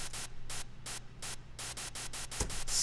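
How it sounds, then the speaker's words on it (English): Bursts of bright white noise pulse in a rhythmic pattern, short hissing hits separated by brief gaps over a low hum. "So let's get white noise with the same melody here."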